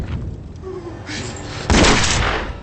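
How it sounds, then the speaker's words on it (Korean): A gunshot from a film, heard as if over a phone line: one sharp, loud burst near the end, preceded by muffled movement and a brief distant thud. "수화기 너머로 부하의 머리통이 날아가는 총성을 들은 빌리는 그제야 사냥감이었던 닉이 포식자가 되었다는 걸 깨닫게 되죠"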